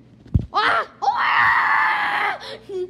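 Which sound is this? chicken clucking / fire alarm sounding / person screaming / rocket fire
person screaming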